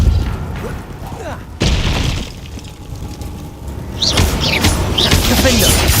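Depulso spell effects in Hogwarts Legacy combat: loud booming blasts, thuds and crashing debris in bursts, with whooshing magic and a sharp impact midway, plus another surge of crashes near the end.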